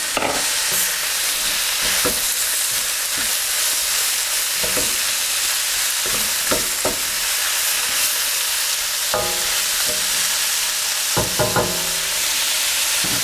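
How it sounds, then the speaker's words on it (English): King prawns stir-fry in a hot pan with a loud continuous hissing sizzle, broken by occasional scrapes and knocks as they are stirred, heard up close with no talk. "put the prawns in"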